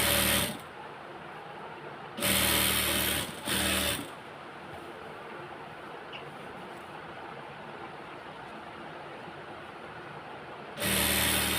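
A sewing machine stitching georgette fabric whirs in several short bursts: two close together near the start, then a long quiet pause before another run begins.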